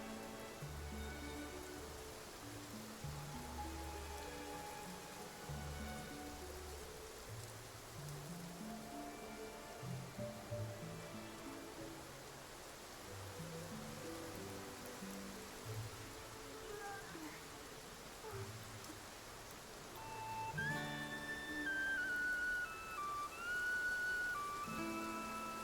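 Rain falls in Stoneville in a video game as a soft, steady patter of drops. It sits under tonal game music with melodic notes throughout.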